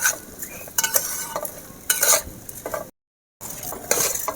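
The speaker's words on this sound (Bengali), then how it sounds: "হালকা জালে এভাবে আস্তে আস্তে করে চালটা আমি ভেজে নেব" Raw rice for basanti pulao is dry-fried and stirred in a pan over low heat, giving a few distinct scraping strokes with a soft sizzle and a brief silent break, with no voices.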